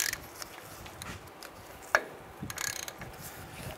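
Ratchet wrench working a 27 mm nut behind the front brakes of a 1992-1996 Ford F-150, giving a few quick close mechanical clicks with a sharper snap midway, amid quiet garage background.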